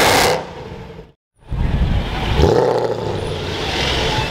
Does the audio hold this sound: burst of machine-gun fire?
no